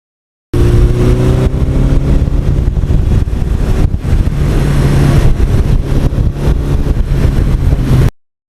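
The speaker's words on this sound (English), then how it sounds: "that throttle just talks to you and it says, come on, go through the gears" A 1982 Suzuki GS1100E motorcycle engine runs hard at wide-open throttle, giving a loud, steady drone with rising pitch while riding on roads in lower New York and northern New Jersey.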